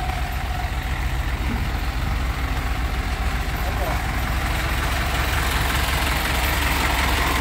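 A truck with a 450 engine idles nearby, a steady, even rumble that holds without change from start to finish.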